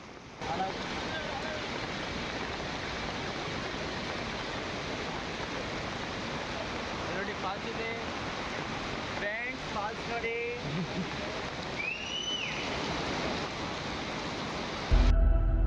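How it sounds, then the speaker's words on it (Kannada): Heavy rain pours steadily outdoors at a TV serial shooting location, a dense, unbroken hiss that fills the scene throughout, with brief faint voices partway through. "ಇಲ್ಲಿ ತಿರ್ಗಾ ಮಳೆ ಸ್ಟಾರ್ಟ್ ಆಯಿತು ಸಖತ್ತ ಮಳೆ ಸ್ಟಾರ್ಟ್ ಆಯ್ತು"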